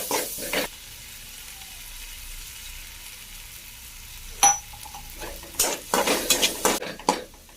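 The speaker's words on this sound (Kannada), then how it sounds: "ಇವಾಗ ಇದನ್ನ ಮಿಕ್ಸ್ ಮಾಡ್ಕೊಳ್ಳೋಣ." Egg burji is stirred in a pan: a spatula clanks and scrapes against the metal in a few sharp bursts over a faint background sizzle, with a quiet stretch in between.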